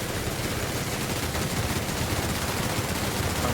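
Sustained weapon fire in The Outer Worlds, a loud, steady wash of shots with no clear pauses, heard alone without speech.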